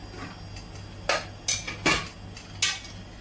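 A pressure cooker of cooked yam being opened, with a few sharp metallic clanks and scrapes of the lid spread over a few seconds against a low steady hum.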